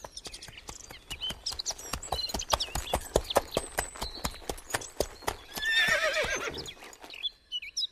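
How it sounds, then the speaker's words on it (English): Horses arrive with brisk clip-clopping hooves, then a loud whinny rises near the end, alongside faint bird chirps in a light, cartoon-like setting. "The king's horses come."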